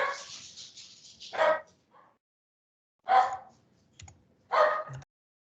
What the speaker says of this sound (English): Sorry, my dogs are barking again.